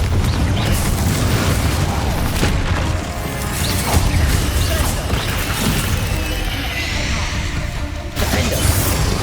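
Confringo fire-blast spells and heavy magical impacts in Hogwarts Legacy, loud and continuous booms and crashes with a dense rumbling combat din and brief dips between blasts.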